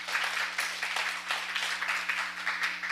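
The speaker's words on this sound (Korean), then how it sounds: "여러분 뜨거운 박수 다시 한번 부탁드리겠습니다." An audience at an ecological agriculture forum claps to welcome a speaker, a faint, even patter of applause over a steady electrical hum.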